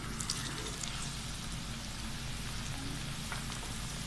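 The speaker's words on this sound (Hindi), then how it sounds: "अब आप इनको फ्राई कर लें। इनको फ्राई कर लें। ऑयल को हम गर्म कर चुके हैं।" Chicken cheese rolls fry in hot oil with a dense, steady crackle and hiss like rain, close and even throughout, no talk.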